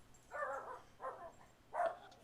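A dog barks three times in quick succession, each bark short and fairly close, over a quiet background with no talk.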